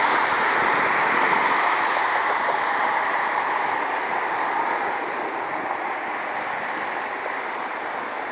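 A United Airlines airliner departs for San Francisco from Cleveland, its engines a broad, steady roar that fades slightly as it goes, with no talk over it.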